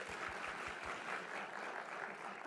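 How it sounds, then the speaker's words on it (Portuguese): An audience at a children's church conference claps steadily for a pastor in a dense wash of applause, sustained for the whole stretch with no pauses. "Pastor Eve, vamos dar uma salva de palmas ao nosso pastor."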